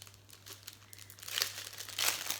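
Plastic packaging of a diamond painting kit crinkling and tearing open, close and fairly quiet, with crackles growing louder in two bursts toward the end.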